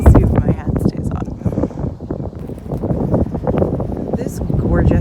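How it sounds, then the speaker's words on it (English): Strong wind gusts across a suburban garden, a loud continuous buffeting roar against the microphone with rustling underneath and a voice briefly audible. "it is super windy"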